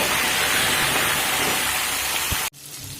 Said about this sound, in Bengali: দেখুন ফুলকপি আমি ভেজে নিয়েছি